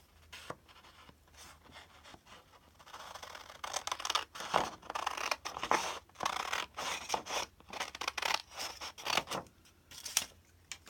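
Scissors snip repeatedly through craft paper tags for a wedding journal, close crisp cuts arriving in irregular bursts after a quiet start.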